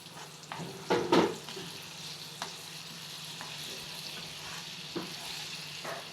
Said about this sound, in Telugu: ఈ మిగిలిన నూనెలో తాలింపు గింజలు వేసుకోవాలి